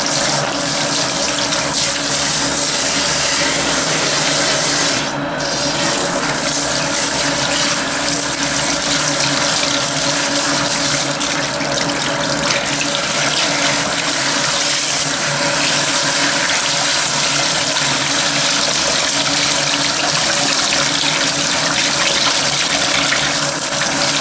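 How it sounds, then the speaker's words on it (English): A hair system is rinsed under a running tap to wash out conditioner, with a steady, close hiss of flowing water continuing unbroken throughout, no talking. "So now we're going to rinse off the hair system, and again, make sure that we get all the conditioner out."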